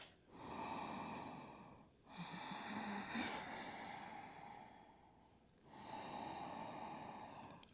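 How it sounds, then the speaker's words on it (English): Steady ujjayi ocean breathing during an energising yoga flow, a soft hissing throat breath in long drawn phases, close and alone with brief pauses between breaths. "Staying with your gentle, steady ujjayi ocean sound."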